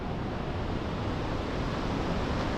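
Ocean waves from an east swell break along a beach with groynes, a steady, dense roar of surf mixed with wind buffeting the microphone, with no distinct individual breaks.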